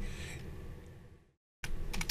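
Rapid keyboard typing, close and clicky, stopping for a brief silence before a fresh burst of keystrokes.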